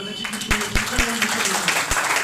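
Scattered handclaps ring out at a Bahujan Samaj Party political gathering, a few sharp, separate claps mixed with a voice talking.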